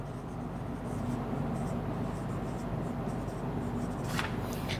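Pen writing an entry onto a balance sheet, a continuous soft scratching and rubbing on paper, close and steady, with no speech over it.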